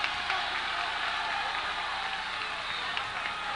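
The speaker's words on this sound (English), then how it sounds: "The crowd going crazy here." A basketball crowd at a boys' high school game between Elsik and Hastings cheers loudly in a gym, a dense sustained roar of voices and applause that stays strong for the whole moment.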